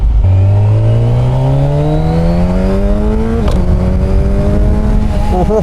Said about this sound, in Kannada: ಟನಲ್ ನಮ್ಮ ಬೈಕರ್ಸಿಗೆ ಫೇವ್ರೆಟ್ ಸ್ಪಾಟ್ ಇದು, ರೆವ್ ಮಾಡೋದಕ್ಕೆಲ್ಲ.